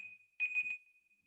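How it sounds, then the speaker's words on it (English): An alarm beeps with a steady electronic tone, rising into a louder pulsing burst of about three quick beeps in the middle before settling back to the continuous tone, with no talk over it. "So this is the alarm."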